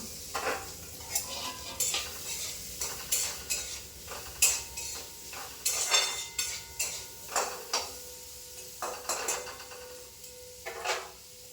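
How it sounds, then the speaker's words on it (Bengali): Raw green tomatoes with cumin, turmeric and chili powder fry in a pan while a spatula presses and scrapes them in a slow, repeated rhythm of soft clinks and scrapes over a quiet sizzle, close and without speech. "আস্তে আস্তে চাপা দিয়ে দিয়ে ভাজবো, আস্তে আস্তে চাপা দিয়ে দিয়ে ভাজবো।"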